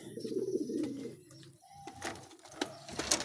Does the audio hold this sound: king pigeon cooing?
yes